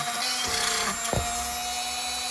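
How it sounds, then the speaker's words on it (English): A small Dremel rotary tool drilling a hole whines steadily at high speed, then spins down with a falling pitch before the whine continues. "now with my Dremel going, I gotta drill this hole"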